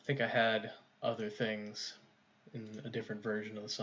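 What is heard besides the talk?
No everyday noises stand out.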